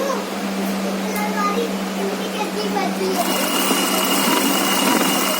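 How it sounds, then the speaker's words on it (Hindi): A sewing machine stitches the edge of a pair of trousers, a steady whirring hum that grows busier partway through, while a person talks over it. "किनारी सिलाई लगाना है आपको।"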